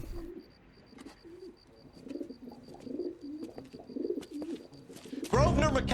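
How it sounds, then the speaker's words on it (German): A pigeon cooing in the video game L.A. Noire, soft repeated coos under a faint steady tone, ending with a louder burst of game sound. "Er hat eine Taube auf mich geschmissen."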